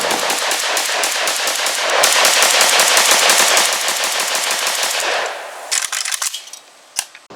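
An Arsenal SAM5 milled AK-pattern rifle in 5.56 fires a long run of rapid, evenly spaced shots, loud and close, then a few scattered final shots and a brief pause as the magazine runs out.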